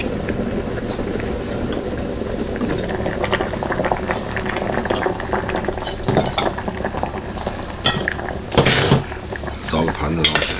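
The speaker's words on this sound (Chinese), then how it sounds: "找个盘子捞起来" Cooked rice noodles for Liuzhou river snail noodle soup are scooped from a pot onto a plate, with repeated clinks and scrapes of utensils against metal and ceramic, plus sloshing, close up and busy throughout.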